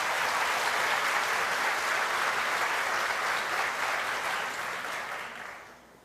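A church congregation applauds during a worship service, a full, even wash of clapping that holds steady for several seconds and then tapers off.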